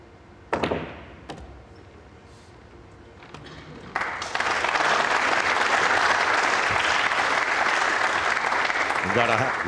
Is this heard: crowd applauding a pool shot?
yes